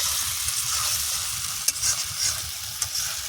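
Potatoes being sautéed and stirred in a pan for egg-fry ghugni in a village kitchen: a steady close sizzle with a spatula scraping and clinking now and then, and no talk.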